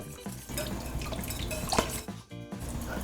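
Water is poured into a pot of seafood etouffee, a steady splashing trickle with small drips and clinks, close and moderately loud, no talk over it.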